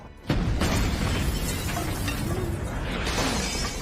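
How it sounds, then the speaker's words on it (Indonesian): A sudden loud blast followed by a long, dense rumble of crashing and shattering debris that stays loud throughout. "tiba-tiba rumah itu pun meledak"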